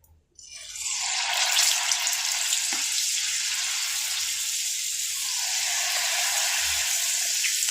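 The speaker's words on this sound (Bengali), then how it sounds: "এবার ভাজাটা তোমাদের দেখাচ্ছি" Jalebi batter squeezed from a bottle with a pierced cap into hot oil gives a steady, close, continuous sizzle and crackle throughout, with no one talking.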